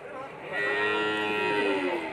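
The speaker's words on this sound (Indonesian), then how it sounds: "ini merupakan sapi jantan dewasa yang berada di Pasar Segi Pahlawan, termasuk sapi terbesar" An adult bull moos at a livestock market, Pasar Segi Pahlawan, with a single long, loud, close bellow lasting over a second and a half, the sound swelling to full strength partway in and holding steady.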